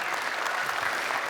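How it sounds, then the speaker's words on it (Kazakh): An audience claps steadily at a stand-up comedy concert, a dense, even wash of applause filling the hall for a moment with no voices over it. "Шапалақтарыңыз қаттырақ."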